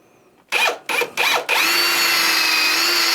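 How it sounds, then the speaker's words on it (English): A power drill bores bolt holes into a sewing machine base, starting in three short bursts before running steadily in a loud, continuous whine. "I'm gonna have to drill some holes for the bolts"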